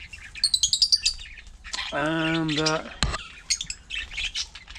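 Caged budgies chirp and tweet in quick bursts close by, with a longer warbling squawk in the middle and a brief spoken word.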